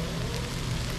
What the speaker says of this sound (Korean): 뜨거운 불판에 올려서 나왔기 때문에 지금도 이렇게 지글지글 하는 소리